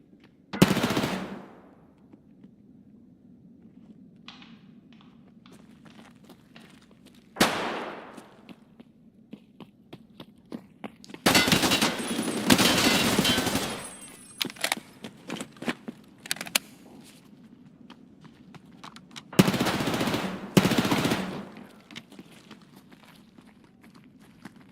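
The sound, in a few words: gunfire and machine gun shots in a shooter video game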